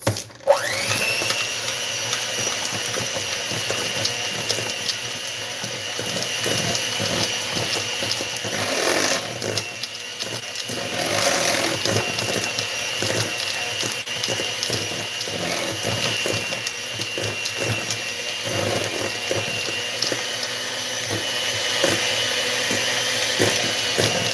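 An electric mixer whirring steadily as it beats low carb red velvet cookie dough, a constant high mechanical whine with small changes in load, close and continuous.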